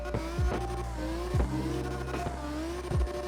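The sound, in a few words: drift car engine sound, video game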